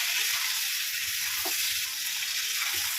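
Steady hissing sizzle of eggplant frying in hot oil in a pan, continuous and fairly close, with a few faint soft pops.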